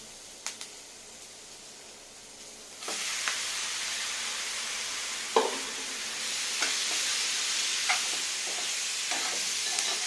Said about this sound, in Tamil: மட்டனை நல்லா வதக்கணும்.